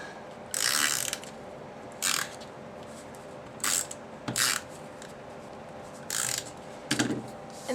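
Snail tape runner rolling adhesive onto the back of a sponged Pear Pizzazz card piece: several short, near ratcheting clicks and rasps in separate bursts with quiet pauses between.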